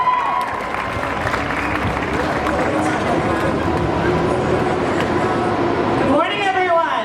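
Sustained audience applause at the Caribana 2019 kick-off at Police Headquarters in downtown Toronto, loud and dense throughout with scattered cheers, tapering near the end as a voice comes in.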